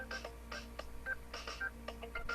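Phone dialing tones during a call attempt: a quick series of short, separate keypad beeps in an uneven rhythm, faint and close, with no talk.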